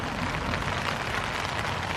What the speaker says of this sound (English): But listen to that rain now.